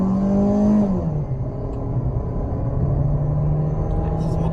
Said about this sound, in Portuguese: O barulho do motor aqui pra dentro é bem alto